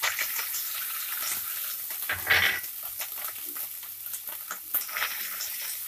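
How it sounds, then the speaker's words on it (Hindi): Grated onion fries in a pan, a steady crackling sizzle with scattered stirring clicks and a brief louder burst of activity partway through, close and moderately loud. "इनको भी अच्छे से ब्राउन होने तक भून लेंगे"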